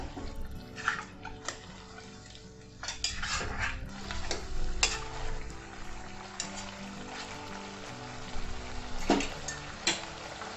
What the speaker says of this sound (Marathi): सगळं मिक्स करून घेऊया चांगलं